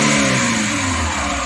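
Engine of a Maruti Eeco van running on LPG revs up steadily after a tightening adjustment, a close, loud, continuous mid-pitched drone rising under acceleration with no talking.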